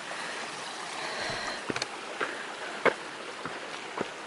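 A small waterfall beside a hiking trail in a forest gives a soft, continuous rushing wash, with a few brief knocks and clicks breaking through near the middle and end.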